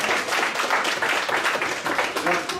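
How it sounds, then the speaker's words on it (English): An audience claps after a human space invaders game at a games event, a brief burst of close, busy clapping mixed with cheering and voices talking over it. "Round of applause, everybody."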